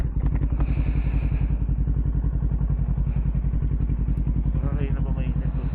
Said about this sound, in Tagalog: Di pa nagpainit ng motor.